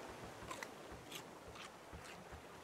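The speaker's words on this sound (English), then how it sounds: "You just like eat them and crunch them up or something?" A watermelon is eaten in the Raft survival game, with repeated crunchy bites arriving in a loose, steady rhythm over quiet background noise.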